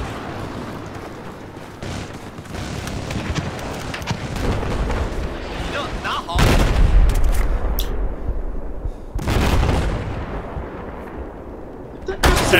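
Tank combat in Battlefield 4 on a train track level, with heavy booming cannon blasts and explosions, dense gunfire throughout, loud and close, under occasional voices.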